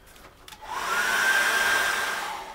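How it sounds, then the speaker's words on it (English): A hair dryer switches on and blows with a steady whirring roar, close and loud, holding for a couple of seconds. "I'm going to dry that with a hairdryer once more"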